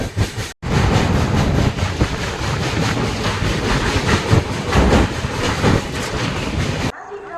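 The Rajkot Gandhinagar Capital train thunders along the rails nearby, a loud continuous roar with clattering wheels that runs for several seconds before cutting off abruptly.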